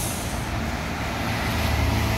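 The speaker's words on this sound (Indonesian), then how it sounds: "Ya, ada bus melintas lagi." Heavy diesel bus passing on a road near Bulak Kapal, Bekasi, a steady broadband roar with low engine rumble, fairly close and continuous throughout, no talk.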